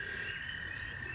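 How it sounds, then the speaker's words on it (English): Frogs call outdoors in the evening as a steady, dense chorus, with evening birds around them, continuous and moderately distant with no talking. "Lots of evening birds, lots of frogs."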